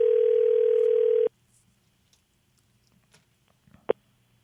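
Steady telephone dial tone held for just over a second, then cut off abruptly, followed by near silence with faint clicks and a sharp tap of a phone being handled.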